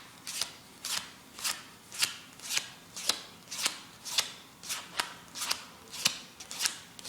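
Playing cards handled during a magic trick, snapping down in a steady rhythm of about eleven crisp, close card placements and riffles, with no talking.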